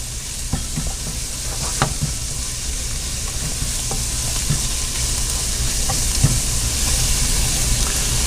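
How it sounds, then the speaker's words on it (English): Hot and sour egg drop soup is stirred in a hot pot, with a steady sizzling bubble and soft scraping taps from the utensil throughout. "So you just want to stir it around"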